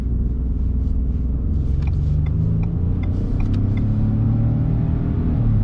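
A 2021 Ford F-150 XLT Hybrid pickup accelerates on a road test drive, giving a steady, loud low rumble of engine and road noise heard from inside the cab.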